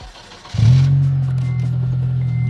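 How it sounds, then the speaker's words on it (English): A car engine cranks and catches abruptly, then settles into a loud, steady, rumbling idle close to the microphone with a slight rise in revs, no one talking over it. "Here, go turn it on. Turn on your car."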